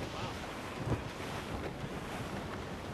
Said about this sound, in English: Careful! It's quite a rough squall